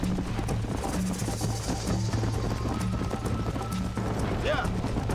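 A horse galloping in Red Dead Redemption, rhythmic hoofbeats pounding steadily under constant music and game ambience, with a brief whinny near the end and voices talking over it.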